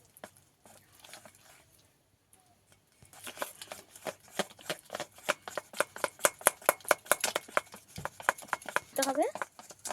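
Grated raw potato being mixed with water by hand in a bowl for a crispy snack, quiet at first, then a rapid run of wet squelching pats and slaps, close and fairly loud.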